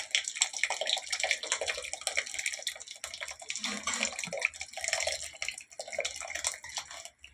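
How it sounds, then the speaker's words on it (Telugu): Tamarind juice poured into a pot of rasam, a close continuous trickling and splashing of liquid that wavers in strength, with no talk over it. "చింతపండు రసం యాడ్ చేసుకుందాం గైస్"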